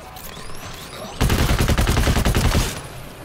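A sentry turret in the game GTFO fires a loud, fast burst of automatic gunfire lasting about a second and a half, close by, after quieter ambient game noise.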